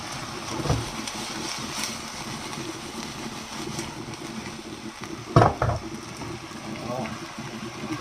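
Okra and chicken breast stirred in a pan, a soft scrape and sizzle running steadily, with a sharper clatter of the utensil about two-thirds through and a voice talking over it.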